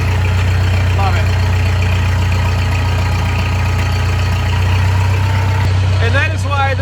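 A tractor engine idles close by in a steady, deep, even rumble that holds throughout, with brief bits of voices over it near the end.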